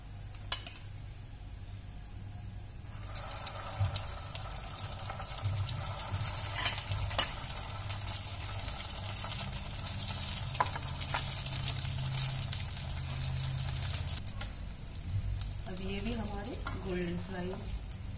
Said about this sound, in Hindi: गोल्डन फ्राई होने के लिए हमने इसमें डाल दिया है